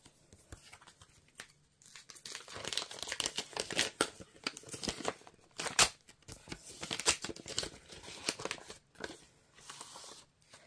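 A paper envelope from an Advent calendar is torn open and handled, giving bursts of ripping and crinkling with short pauses between them, close and fairly loud.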